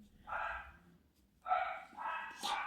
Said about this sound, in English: Dogs are going crazy again.